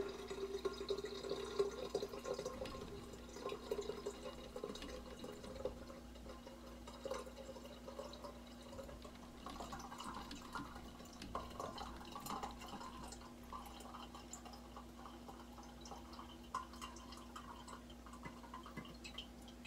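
Habanero mead pours from one jar into another, a faint steady trickle and splash with scattered drips, low-level and continuous over a background hum, with no voices.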